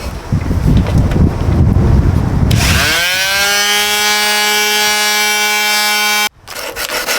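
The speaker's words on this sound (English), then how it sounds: "I'm going to sand it now." A wooden carousel top piece is sanded: loud, close rubbing and scraping, then a motor-like whine rises and holds steady for several seconds before cutting off abruptly, followed by more rubbing.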